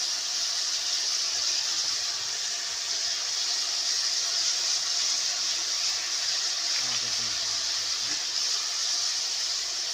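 Steady broadband hiss and rushing of water poured into a hot kadhai of ridge gourd curry with turmeric, continuous throughout with a faint clatter near the end.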